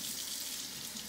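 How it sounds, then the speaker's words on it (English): Tap water runs in a brief, faint, steady hiss as cooking utensils are rinsed under it. "occasionally rinsing off my cooking utensils"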